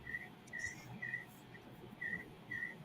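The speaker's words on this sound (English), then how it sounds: "It sounded like crickets to me." Faint, regular chirps like crickets, about five evenly spaced pulses over a low background hum, distant and thin with no talk.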